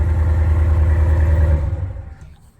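A 2016 Ram 1500 with a Hemi engine and muffler delete idles with a deep, loud, rumbling burble before the sound drops away and fades near the end.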